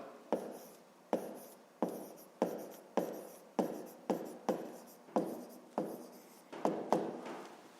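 Fractions being written by hand for a fifth-grade maths exercise, about a dozen crisp pen strokes on paper in a steady rhythm, close and quiet, each scratch starting sharply and fading, with no talking.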